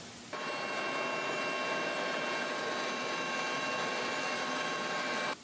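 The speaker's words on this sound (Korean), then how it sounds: "헬기 소리가 들리자마자" A rescue helicopter above a tilted, sinking passenger ferry makes a loud, steady engine and rotor whine that starts and stops abruptly.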